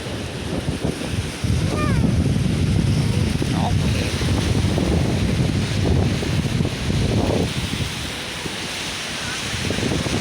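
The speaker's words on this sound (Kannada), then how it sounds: "ವಾವ್, ಶಬ್ದ ಕೇಳಿದ್ರ? ನೀರು ಹೆಂಗಿದೆ ಶಬ್ದ." Waves break and wash where the Nagavali river flows into the Bay of Bengal at Srikakulam, a steady loud surf roar with heavy wind buffeting the microphone throughout.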